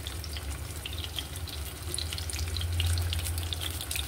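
Bitter melon pieces frying in a pan of hot oil give a steady, close sizzle with dense crackling that swells slightly louder toward the end, with no voices.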